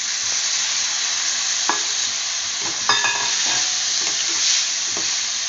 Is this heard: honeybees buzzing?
no